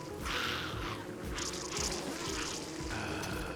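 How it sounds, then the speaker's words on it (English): Bees buzz in the game Don't Starve while stinging spiders, a soft, droning insect hum that swells and fades in a few overlapping bursts at modest volume, with no voices. "the bees are actually stinging the spiders"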